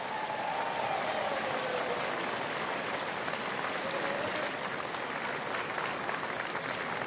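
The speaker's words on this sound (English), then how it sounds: "let's give them a really big round of applause" A crowd applauds steadily and loudly throughout at the presentation after a schools rugby game, with dense, continuous clapping and a faint voice briefly audible beneath it.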